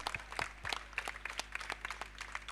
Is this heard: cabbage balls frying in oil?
no